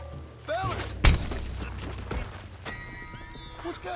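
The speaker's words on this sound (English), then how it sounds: "What's got this horse spook, huh?" A spooked horse in Red Dead Redemption 2 whinnies a few times amid game noise, with a sharp thud partway through and speech-like chatter around it.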